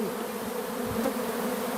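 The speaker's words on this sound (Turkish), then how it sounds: "Arıların içindeyim ya." Close, continuous buzzing of bees swarming around, a steady droning hum with slight shifts in pitch as insects move past.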